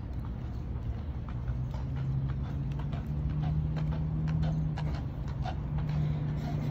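Horses clip-clop along a Boston city street, their hoofbeats faint and irregular beneath a steady rumble of passing traffic.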